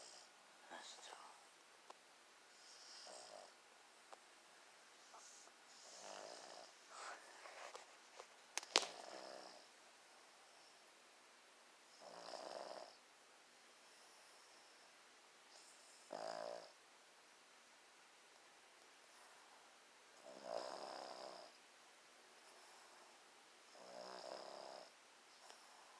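An old man snores in slow, regular breaths, each rasping inhale rising in a burst and fading, with quiet whispering and rustling between snores in a hushed room.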